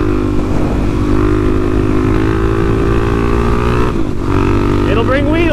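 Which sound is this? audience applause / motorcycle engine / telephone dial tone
motorcycle engine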